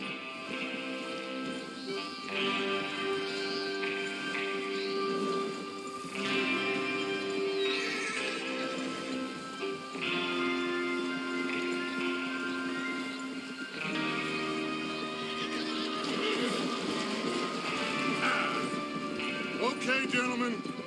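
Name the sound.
horses neighing and riding in Red Dead Redemption 2 video game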